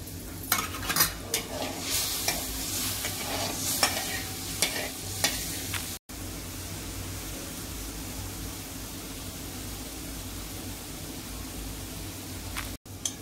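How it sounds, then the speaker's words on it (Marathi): A pot of salted water heats on the stove for besan vadi, a steady bubbling hiss with some stirring and clinking in the first few seconds that then settles into an even, moderate simmer. "हे बघा, आता हे पाणी उकळलंय वडीचं।"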